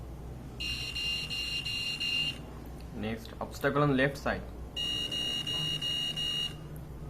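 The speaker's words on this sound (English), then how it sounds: "Buzzer is to notify people to move out" An electronic buzzer on an assistive device for deaf and visually impaired people sounds in two steady high-pitched bursts, each lasting a couple of seconds, with a voice speaking briefly between them.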